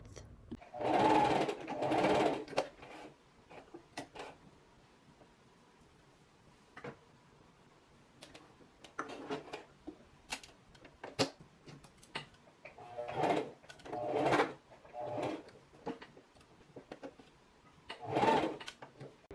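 A sewing machine stitches swimsuit fabric slowly, with the material guided flat under the needle. It runs in several short, whirring bursts of rapid stitching, separated by pauses filled with fabric handling and small clicks. Nobody speaks.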